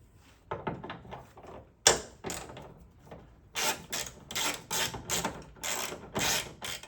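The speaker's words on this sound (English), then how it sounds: "All right, we're gonna unscrew the top bolt." A ratchet loosens the top hood bolt on a twenty-year-old Acura RSX. Close, quiet bursts of clicking come in quick repeated strokes, with short pauses between them.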